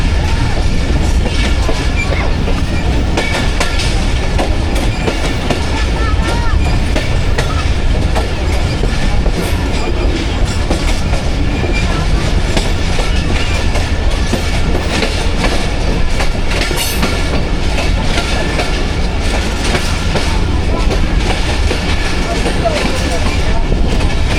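Rehman Baba Express passenger train rolling along the Nawabshah loop line, a loud continuous rumble with steady clickety-clack of wheels on rail joints, heard from on board and close.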